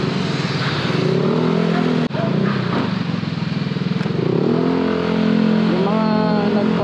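A motorcycle fitted with a GP2 Villain exhaust revs close by, its engine rising and falling in throaty surges with a brief cut midway, while someone talks over it.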